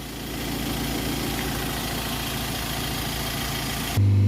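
Ford Transit 2.4 diesel van engine running with a leaking DPF, a steady low mechanical drone held at constant revs, close and fairly loud, which shifts abruptly to a deeper, louder rumble near the end.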